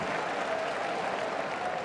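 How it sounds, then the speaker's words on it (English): Rugby World Cup stadium crowd at Wales versus Uruguay, cheering and applauding in a continuous distant wash of clapping and crowd roar. "Oh, this has got the crowd going."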